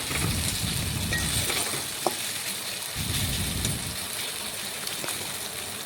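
Steady sizzling and crackling from mushrooms frying in a kadai, with a couple of faint clinks, fairly quiet and continuous.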